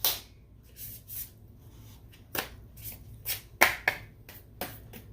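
Tarot cards shuffled by hand close up, giving sharp, scattered riffles and flicks in irregular bursts against a quiet room.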